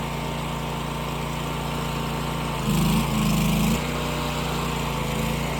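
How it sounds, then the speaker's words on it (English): A Vermeer TS-50M tree spade's engine drones steadily, then briefly bogs and rises in pitch under load for about a second before settling back to its even idle-like hum, close and loud with no talk. "You'll hear the engine. If you go all the way to the end, you'll hear the load on the engine."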